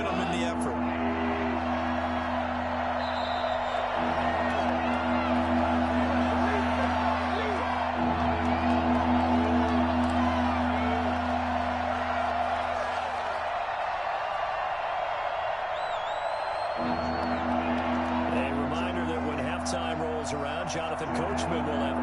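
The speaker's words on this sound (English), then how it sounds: "That just means this crowd's going to get even louder." A large football stadium crowd roars steadily and loudly throughout, with scattered whoops and shouts rising from it, while a commentator talks over the noise.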